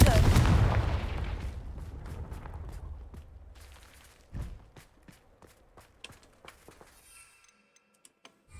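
Confringo fire spell blast in the video game Hogwarts Legacy, a loud roaring burst at the start fading over a few seconds, followed by scattered thuds, ticks and light footstep-like taps growing quieter.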